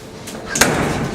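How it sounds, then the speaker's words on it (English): Wash chamber door of a Douglas Machines Model 1536-SPW scale parts washer sliding shut with a loud metallic slam midway, followed by a short ringing decay. "The door is closed"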